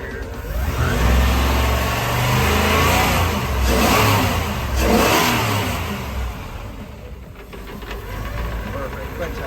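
A Crusader 7.4 L29 MPI marine engine in a 1999 Tiara 2900 Coronet runs and revs in the boat's engine bay. It gives a loud, continuous mechanical roar that swells and eases over several seconds.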